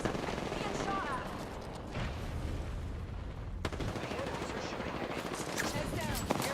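Rapid automatic gunfire bursts in an Apex Legends battle, loud crackling volleys with sharp cracks around the middle, mixed with game voice lines and a player talking over it.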